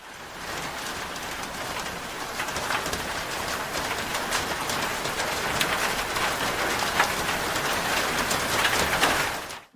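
Dry, unprocessed rain falls steadily as a dense, even hiss of drops pattering on surfaces, close and fairly loud, growing slightly fuller toward the end with no voices.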